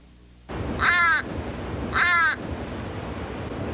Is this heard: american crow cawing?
yes